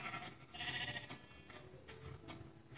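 Sheep in a pen bleat several times in wavering cries, one longer bleat standing out among shorter calls, faint and distant-sounding over a low background noise.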